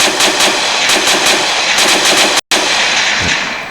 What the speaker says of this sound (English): So the gun does fire